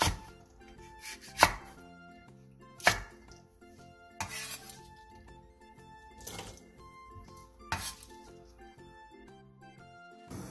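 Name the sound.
knife chopping onions and chili peppers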